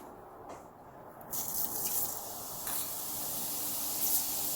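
Cumin seeds crackle and splatter in very hot oil and ghee, a steady broadband sizzle that swells after the first second and holds loud and close, with no talk over it.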